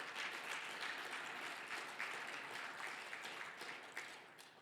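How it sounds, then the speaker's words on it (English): An audience at a soil and food conference claps to thank the sponsors, a steady, even wash of applause that sounds faint and distant and tapers slightly toward the end, with no voices over it. "Could I get everyone to please give them a round of applause?"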